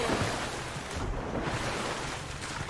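Water rushing and wind noise from a boat skimming across water in the Fortnite video game, a steady, continuous wash with no talking.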